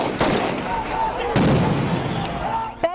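Gunfire and tear gas shelling at a protest in Kashmir, with a few sharp, loud reports spaced over a few seconds above a steady crowd murmur and voices.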